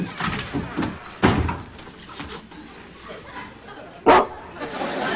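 A man imitating a dog's bark in a comedy scene, two sharp loud vocal barks separated by a few seconds, with quieter voices and rustling around them.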